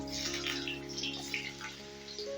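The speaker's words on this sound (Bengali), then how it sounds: "তেলটা গরম হয়ে গেছে এবারে দিয়ে দিচ্ছি কুমড়ো" Pumpkin pieces sizzle in hot white oil, a close, steady crackling hiss with bubbling spatter and no voices.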